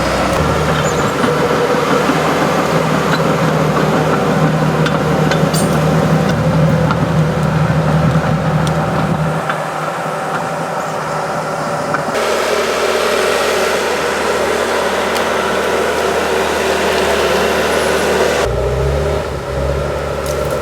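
Loud, steady diesel engine rumble of a bulldozer clearing brush nearby, with shifts in load and pitch as it pushes through, no voices.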